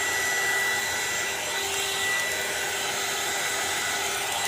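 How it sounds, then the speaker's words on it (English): A small heat gun blows steadily close by as it shrinks wrap around a pair of blueberry donut bath bombs, making a constant loud hair-dryer-like whoosh and whine throughout with no talking. "I'll turn on my little heat gun and just start shrinking this up."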